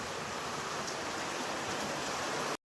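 Hail falling with heavy rain, a dense, unbroken roaring hiss that stays loud and even until it cuts off abruptly at the end.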